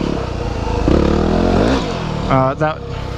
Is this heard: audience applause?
no